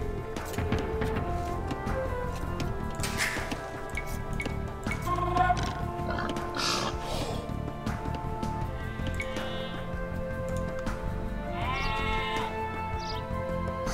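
Sheep bleat repeatedly in Age of Empires II: Definitive Edition, short bleats rising over a busy bed of game music and ambient sounds.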